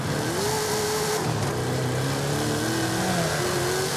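A modified Transit van with a 1,750-horsepower engine revs hard in a racing game, a steady, loud mid-pitched engine roar with rising and falling tones that holds for the whole stretch without any talking.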